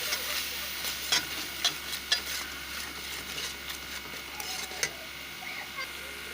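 Chicken liver and spices (korma masala, coriander powder, garam masala, chicken masala) stirred and fried in a pan: a steady close sizzle with scattered scraping spoon clicks, no talking.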